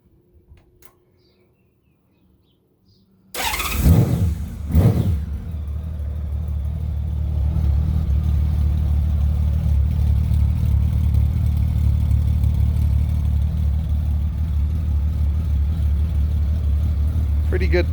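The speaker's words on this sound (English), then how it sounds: "let me give you a sound bite with it running with the silencers in" A Honda Valkyrie motorcycle with a custom exhaust, silencers fitted, starts up with a sharp crank and bark, then settles into a steady, deep, throaty idle that continues close by; a brief voice precedes the startup.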